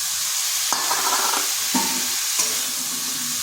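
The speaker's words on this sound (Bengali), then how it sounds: "দিয়ে দিচ্ছি পরিমাণ মতো লবণ আর দিচ্ছি একটা টমেটো।" Salt and a tomato go into a ridge gourd curry with potato and lentil dumplings frying in a pan, giving a few bursts of stirring and sizzling over a steady close frying hiss, with no talk.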